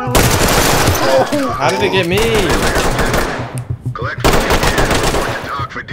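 Rapid automatic gunfire in the tactical shooter game Ready Or Not, loud dense bursts filling most of the stretch with a short pause, under a man's brief spoken reaction.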